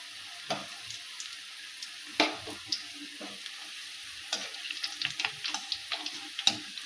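Spinach pakoda fritters frying in hot oil give a steady close sizzle with scattered crackles and pops, no talking over it.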